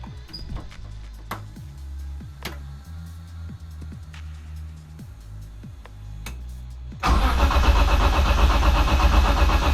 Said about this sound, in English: here's a clip of the car running, or the engine running